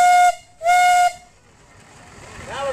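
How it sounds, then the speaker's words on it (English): A half-scale 32 horsepower Reeves steam engine sounding its steam whistle in two loud, steady blasts, the second longer, followed by a soft hiss of steam and a brief rising tone. "Blow the whistle there,"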